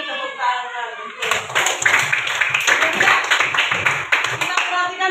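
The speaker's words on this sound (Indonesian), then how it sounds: "Tepuk tangan" Children in a classroom clap their hands together in a burst of uneven claps, close and fairly loud, with a voice and talk mixed in during a lesson.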